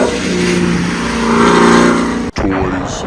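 A supercharged C6 Corvette engine revs loud and close with a steady harmonic drone. It cuts out abruptly near the end, then briefly picks back up.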